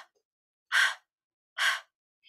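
An adult voice imitates heavy breathing for the letter H sound. Two breathy, forceful exhalations come alone against silence, evenly spaced about a second apart.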